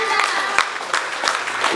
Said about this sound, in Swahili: Pigie Yesu makofi.